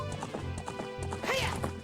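Epona the horse galloping in The Legend of Zelda: Ocarina of Time Master Quest, with a quick run of hoof clip-clops and a whinny-like rise near the end, over game music.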